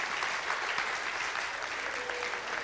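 A congregation or audience claps for a great-grandmother, steady crowd applause of many hands at moderate distance, even and continuous throughout.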